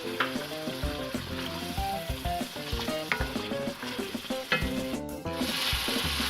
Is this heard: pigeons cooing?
no